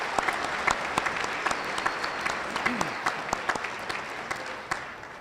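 Audience applause at the Dilworth-Glyndon-Felton High School commencement for the class of 2022 fills a large hall, steady moderate clapping with scattered louder claps and a brief voice underneath.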